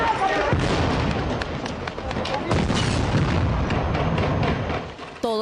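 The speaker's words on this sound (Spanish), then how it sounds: "esta explosión puso en marcha el operativo Chavín de Huántar" The explosion that launched the 1997 Chavín de Huántar hostage rescue operation bursts out as a dense, rumbling blast followed by continued booming and crackling, with voices faintly mixed in the chaotic din.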